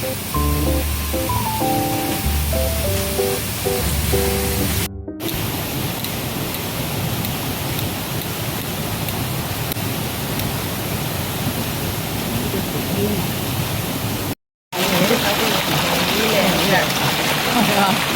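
A waterfall on the Pak Mong stream roars in a loud, constant rush, with music briefly heard at the start and two short cuts in the sound.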